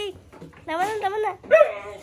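Dogs at home let out a brief, close whimpering whine, with two short high-pitched tonal bursts over quiet background.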